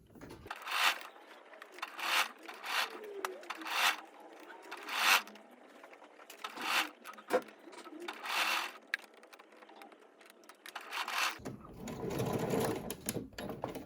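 A sewing machine stitches a blouse collar in repeated short bursts of whirring, close and moderately loud, with pauses between runs and fabric rustling near the end.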